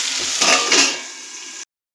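Vegetables frying in a pan with a loud, close sizzle and two brief swells of stirring before the sound cuts off abruptly.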